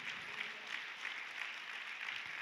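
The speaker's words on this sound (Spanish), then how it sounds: "Ahora puede aplaudir al Señor." A church congregation claps together during a Spanish-language service, sustained, even applause at a moderate distance, with no talking over it.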